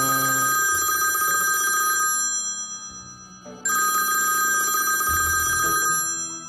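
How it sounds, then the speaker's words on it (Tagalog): A telephone rings loudly and nearby in two long electronic ringtone bursts separated by a short pause, with no talking over it. "Kuya Alden, telepono po."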